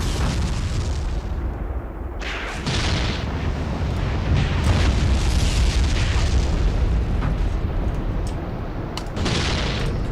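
Repeated artillery shell explosions in a WWII tank battle game set at Faid Pass, Tunisia, 1943: loud, sustained booming bursts with several sharper blasts, dense and continuous with no talk.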